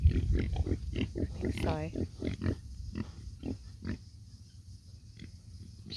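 Pigs grunting and oinking close by at feeding time, mixed with a person talking over them, with short snorts and a squeal partway through.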